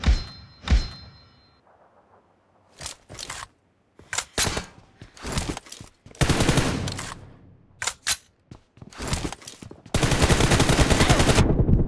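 Gunfire in the mobile shooter BGMI, sharp loud bursts of automatic fire and single shots in uneven volleys, ending in a sustained rapid stream of shots, with no talk.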